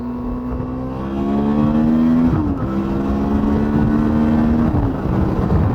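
A Suzuki V-Strom motorcycle pulls away from a stop sign, its engine note climbing steadily through two quick gear changes, loud and close throughout.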